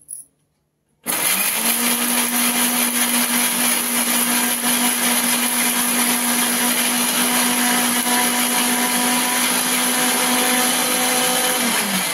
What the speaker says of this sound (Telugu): ఇప్పుడు ఇవి కూడా వేసుకొని మిక్సీ చేసుకుందామండి